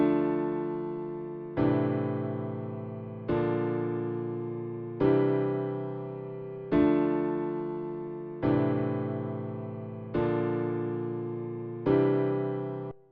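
A chord progression in simple three-note voicings, each chord struck and left to ring and fade, eight chords in a steady, even rhythm with no talking.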